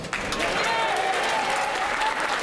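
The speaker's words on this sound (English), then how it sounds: "lawmakers from all sides of the chamber applauded, with many rising for a standing ovation" Lawmakers applauding across a parliament chamber in a standing ovation, a dense continuous wash of clapping from many hands, loud and sustained throughout, with a faint voice among it.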